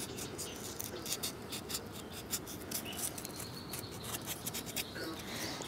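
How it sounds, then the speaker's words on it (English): Sandpaper rubs in short, quiet scratchy strokes on a hand-carved wooden face near the eyes, a faint rhythmic rasping heard up close. "Coming underneath there with the sandpaper."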